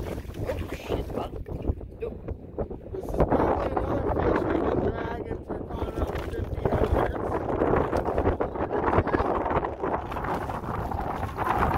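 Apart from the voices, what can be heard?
wind blowing over lake while drifting in boat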